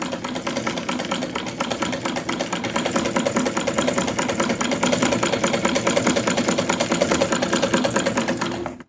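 Treadle sewing machine running steadily and loudly up close, a fast continuous mechanical clatter and whir with a regular rhythmic pulse that holds for the whole stretch before stopping abruptly at the end.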